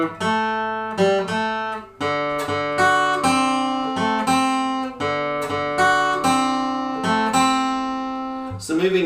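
Guitar playing the opening three bars of a shuffle blues in A: a bright plucked pattern with a swinging uneven rhythm, repeated notes and chord jabs, played slowly and close with no voices.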